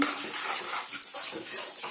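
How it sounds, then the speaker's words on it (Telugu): Clinking and scraping of a spoon against metal pots as creamy curry is scooped into them, close and continuous. "ఇప్పుడు నేను దీన్ని గిన్నెలకు వేసుకుంటాను"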